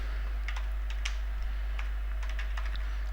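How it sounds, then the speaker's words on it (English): Commands typed on a computer keyboard during a server setup, irregular light key clicks over a low steady hum, with no talk. "So let's go ahead and start typing the commands."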